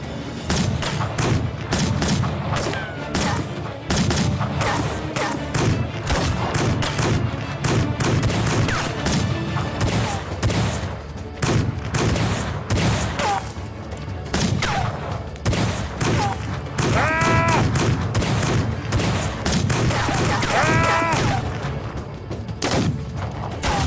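Gunfire rattles through a dubbed battle scene, dense volleys and booms layered continuously under a music score for the whole stretch, with a few whistling effects cutting through.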